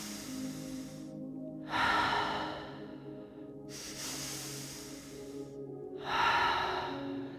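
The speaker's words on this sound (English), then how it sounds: "So it's 2 quick ones and then a 3rd long inhale followed by a loud exhale." Yoga three-part breathing by an instructor: sharp, audible breaths through the nose in quick succession, then a long inhale and a loud, airy exhale, close and clear with no talk.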